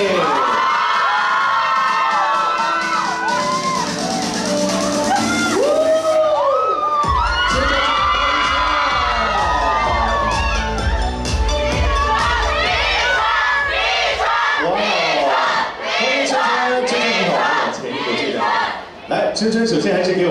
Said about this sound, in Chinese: 让我们掌声欢迎多芬全球品牌大使李宇春